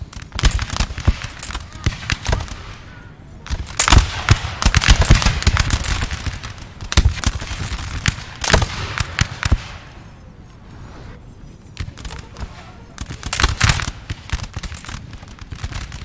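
Dense, continuous musket volleys crackle through a Napoleon: Total War multiplayer battle at Borodino, French and Russian infantry lines firing rapidly, with sharp overlapping shots and louder bursts rolling on and off throughout.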